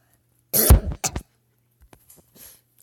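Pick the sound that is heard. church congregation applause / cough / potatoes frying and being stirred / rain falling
cough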